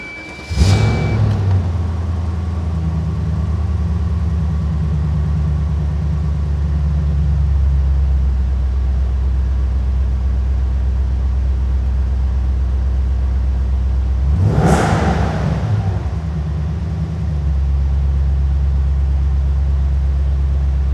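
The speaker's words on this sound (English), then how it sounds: "Folks, the super light, all carbon fiber, 1999 Shelby Series 1." A 1999 Shelby Series 1, an ultralight all-carbon-fiber car, idles with a loud, deep rumble close by, flaring into two sharp revs, one at the start and another about fourteen seconds later, each settling back to idle.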